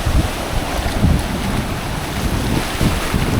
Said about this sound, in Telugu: అలాలు కూడా ఎక్కువ వస్తూనే ఉన్నాయి